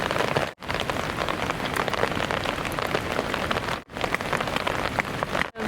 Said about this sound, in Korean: 지금 잠깐 설거지하러 갔다 온 사이에 비가 갑자기 너무 많이 와서 불이 죽었어요.